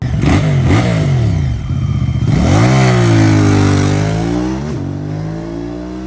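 A QJMotor SRK550 motorcycle engine revs loudly and pulls away, its pitch dipping between gear changes then climbing again in a strong, sustained acceleration, close and with no talking.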